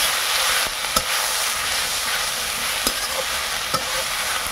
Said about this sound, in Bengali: কলমি শাক আর সজনে পাতা ভাজা হচ্ছে।